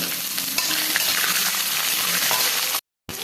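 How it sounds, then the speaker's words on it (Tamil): Small onions and chillies sautéing in a kadai, a loud, dense, steady sizzle heard close up, cut off by a short silent gap near the end. "இதையும் கடாயில் போட்டு வதக்கிக்கிடலாம்"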